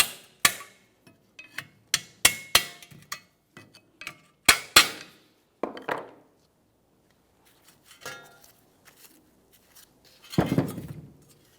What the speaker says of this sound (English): I have a small hammer, and I'm going to use this pry bar, start tapping on that backing plate along where the knuckle is.